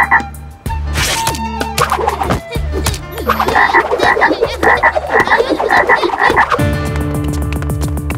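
A cartoon frog croaks loudly and repeatedly in a Chhota Bheem episode, a rapid run of close, throaty croaks stacked together, ending in a lower sustained tone.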